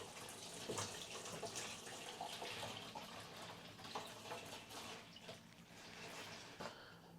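Water from a hose runs into the tank of a carpet cleaning machine, a soft, steady rush and splash that stays faint and continuous.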